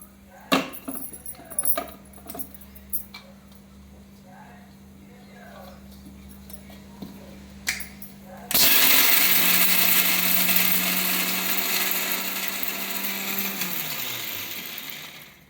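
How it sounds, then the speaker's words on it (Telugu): A mixer grinder whirs loudly for several seconds, grinding lentils steadily before winding down, after some clinking and handling noises. "ఇప్పుడు పప్పులు ఆడించుకుందాం, మిక్సీలో ఆడిచేద్దాము."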